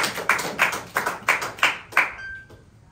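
A congregation in a church service claps hands in an even rhythm, about seven sharp group claps roughly a third of a second apart, fairly close and clear, then stops and the room falls quiet.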